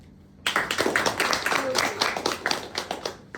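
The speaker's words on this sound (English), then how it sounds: "Can we have a round of applause for our guest speaker, Mr. Dhruv Verma and Sahil Manral?" Audience applause for guest speakers at an entrepreneurship session bursts in after a brief quiet, a lively run of scattered claps with voices mixed in.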